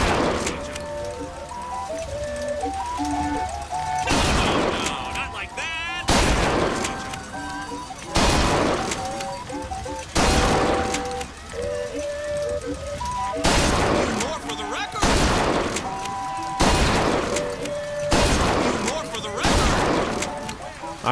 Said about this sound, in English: This is an air shotgun?